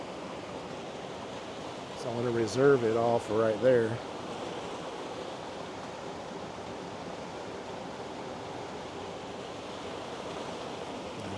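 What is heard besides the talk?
river water splashing down into a pool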